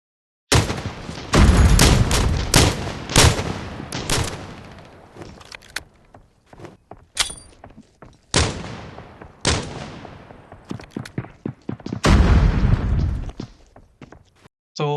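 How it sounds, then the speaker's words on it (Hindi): Gunshots in a battle royale video game, loud separate blasts and short bursts spread irregularly across the stretch with quiet gaps between, no talk over them. "मैं उसको एक शॉट मारता हूँ।"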